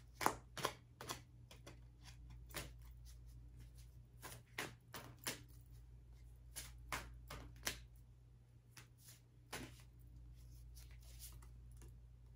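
Tarot cards being shuffled and picked by hand at close range, a run of sharp, irregular flicks and taps over a steady low hum, with no talk.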